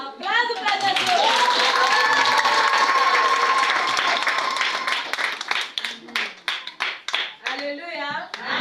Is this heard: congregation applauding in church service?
yes